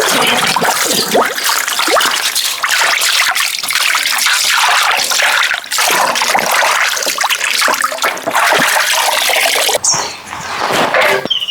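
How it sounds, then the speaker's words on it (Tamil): Raw chicken being washed for a clay-baked mud chicken recipe: a loud, steady gush of running water and splashing carries on continuously, with a brief dip and wet swirl near the end. "ஜேனா சிக்கனை நல்லா கழுவி எடுத்துக்க கழுவிடலாம்"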